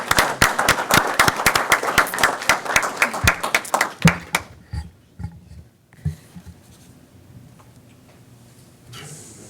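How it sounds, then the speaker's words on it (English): Audience at an LAFD headquarters ceremony honouring a cardiac arrest survivor bursts into loud, close applause that thins out after a few seconds into scattered claps and room quiet, then a faint voice begins. "One more clap."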